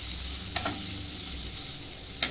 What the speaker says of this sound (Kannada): ಇದನ್ನು 2-3 ನಿಮಿಷ ಫ್ರೈ ಮಾಡ್ಕೊತೀನಿ